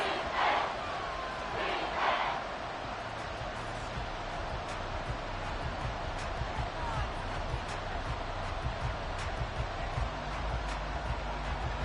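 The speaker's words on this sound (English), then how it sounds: "The Arrowhead crowd in full roar" A packed Arrowhead Stadium crowd roars during a Chargers vs Chiefs football game late in the fourth quarter, a steady, loud wall of sustained cheering and yelling throughout with a couple of brief higher shouts near the start.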